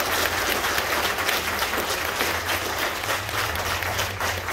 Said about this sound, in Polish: I jeszcze raz wielkie brawa dla wszystkich dzisiejszych gości.